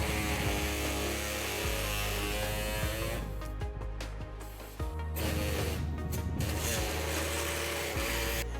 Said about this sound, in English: I will be trimming this with an air saw today